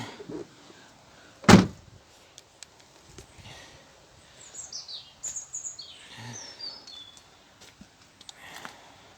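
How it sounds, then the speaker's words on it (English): The tailgate of a Vauxhall Astra J is pulled down and shut with one sharp, loud slam near the start. Quieter rustles and faint bird chirps follow outdoors. "Let's pull that tailgate down."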